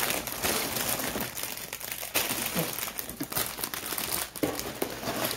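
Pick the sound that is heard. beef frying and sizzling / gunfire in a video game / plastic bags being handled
plastic bags being handled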